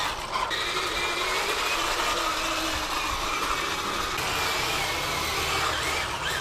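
An RC Ripsaw drift tank with metal tracks drives over ground: a continuous close-up mechanical clatter and ratcheting whir from the tracks and motor, steady and uninterrupted, with no talking.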